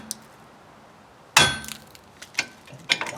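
A metal part of a 2008 Hyundai Elantra parking brake is tapped through, one sharp metallic clank up close, then a few lighter clinks and taps in a quiet workshop.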